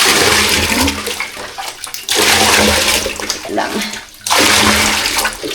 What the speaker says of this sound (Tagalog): Lagyan pa natin to ng tubig.